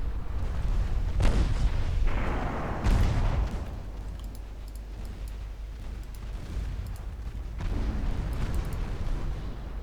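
Torpedo hits explode against ships in a naval battle video game: deep, rumbling blasts burst out near the start and again later, each followed by a lingering roar.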